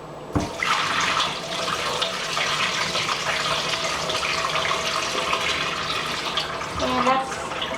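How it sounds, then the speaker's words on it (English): Water drains from a sink basin after hand-washing doll clothes, a continuous gurgling, rushing flow that starts abruptly and holds steady at close range, with a brief extra slosh near the end. "So I'm going to drain the water."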